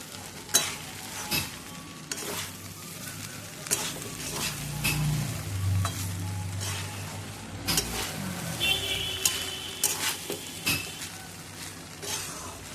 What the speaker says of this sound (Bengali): ঘিটা দিয়ে একটু নেড়ে দেব